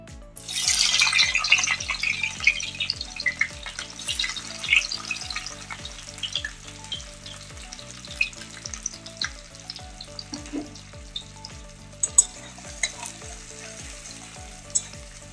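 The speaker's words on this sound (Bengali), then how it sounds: "পেঁয়াজগুলোকে ভালো করে ভেজে নেব।" Sliced onions sizzle loudly in hot oil in a wok, a dense, steady frying hiss with occasional stirring scrapes that runs throughout, close by with no voices.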